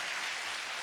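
An audience at a Hindi-language Jain sermon in Jabalpur claps in a brief, dense burst of continuous hand-clapping, filling the hall for under a second with no voices heard over it.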